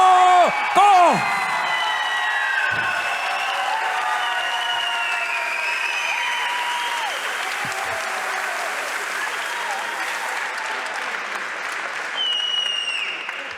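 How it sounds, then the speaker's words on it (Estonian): A crowd at a combat-sports gala applauds the unanimous-decision winner of the fight, with steady, sustained clapping, a few whoops and cheers on top, and a brief louder burst near the start. "ma olen siin meie võitja Meero Kohviga, teeme talle suure aplausi"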